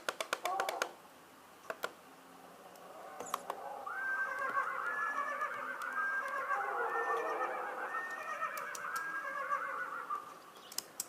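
Long, shrill horse whinny with a wavering, descending pitch from the Minecraft Mo' Creatures mod, sounding in the middle of the clip after scattered clicks and game noises; fairly loud and close, with no talk over it.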